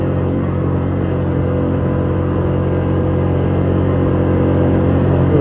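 Polaris Magnum 330 ATV engine held at full throttle, a loud steady drone and rumble heard close and constant throughout, with no speech.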